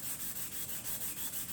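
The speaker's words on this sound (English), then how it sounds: "keep on sanding." Sandpaper rubbing back and forth on the black ABS plastic of a Kettlewell chromatic harmonica, a steady rhythmic scraping with about eight even strokes, close and fairly quiet, with no voices.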